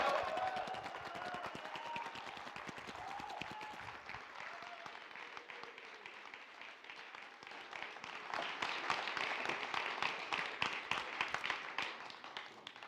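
Steady applause from a crowd at a cocktail competition semi-final, a continuous wash of clapping that swells slightly louder toward the end, heard at a moderate distance.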